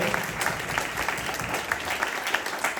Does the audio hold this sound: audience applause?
yes